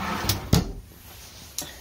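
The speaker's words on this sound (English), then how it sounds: "And look at these drawers. Fully extendable drawers." Fully extendable drawers in the bedroom of a used Monaco Knight Class A diesel motorhome slide open with a few quick soft thuds and knocks, close and quiet.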